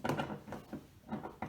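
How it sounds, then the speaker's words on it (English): A wrench works 10 millimeter bolts loose from the door of a 2014 Cadillac Escalade during a door handle repair, giving a series of close, quiet ratcheting clicks in short bursts. "All right, so we remove those bolts. 10 millimeter,"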